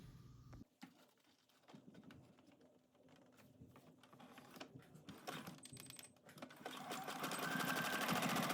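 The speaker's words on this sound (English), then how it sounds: "I'm just gonna sew the ends of the elastic together with a zigzag stitch." A sewing machine runs a zigzag stitch to join the overlapped ends of elastic for a windbreaker, starting with a click and rattling steadily, its needle clatter growing louder and faster toward the end.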